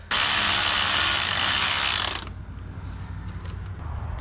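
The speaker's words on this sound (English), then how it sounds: "Now I'm gonna tighten up the alternator." A power tool drives the alternator bolt tight on a 2017 Hyundai Accent in one loud, steady two-second whir up close, then stops, leaving faint clicks and low shop noise.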